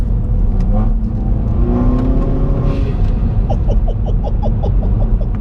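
A Hyundai i30N hot hatch tuned to 320 bhp pulls hard on a cold road, its engine drone loud and close with a rising whine toward the end and no voices.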